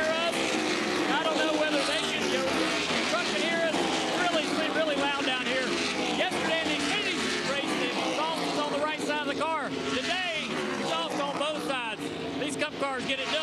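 NASCAR Cup Series race cars at Nashville Superspeedway roar past in a continuous loud wash of engine noise with rising and falling whines, while people talk over the din.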